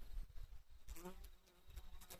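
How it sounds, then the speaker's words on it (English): Faint buzzing of bees hums through quiet outdoor ambience near a gazebo and loquat tree, with soft rustling and a few brief higher tones drifting in and out. "can probably hear the bees in the background"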